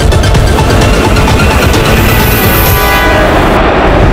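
A cartoon sky train rushes past with a loud, steady roar of rails and wind, sustained throughout, with a faint horn-like toot and no talking.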